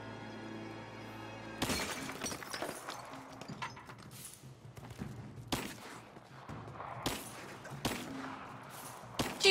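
Glass shattering from gunshots in Rise of the Tomb Raider at an old Soviet base: several sharp, loud bursts of breaking glass and gunfire, spaced a few seconds apart over a low droning background.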